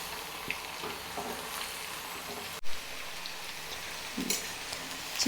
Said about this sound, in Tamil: அது வரைக்கும் அது ஆயிலில் ஃப்ரை ஆகட்டும்